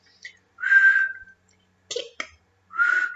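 A human voice imitates dolphin sounds with a few short, bright whistled squeaks and clicks. They come in separate bursts, close and clear, in a quiet room.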